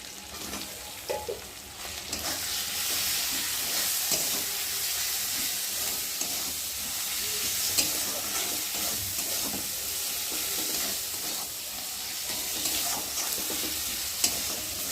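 Spice masala with cumin powder, chili powder and tomato fries in a pan for a small-prawn malaikari, a dense, constant sizzle with occasional stirring scrapes close by.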